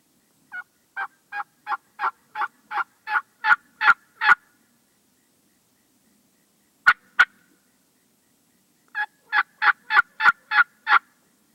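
A wild turkey gobbler on Florida public land calls in rapid, rattling bursts of about ten notes, with a short two-note call between them, loud and close against an otherwise silent background.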